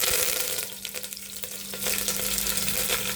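Mustard seeds, cumin and curry leaves fry in hot oil for a sambar tempering, a loud, dense, continuous sizzle with rapid spattering crackles, close up and without any voices.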